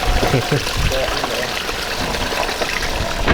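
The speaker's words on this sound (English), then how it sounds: "Put the hose in the radiator and open it up. And now we're gonna flush all the soap, as you see down there." Water from a garden hose gushes and splashes through a car radiator, flushing out soap in a constant loud rush, with voices faintly mixed in.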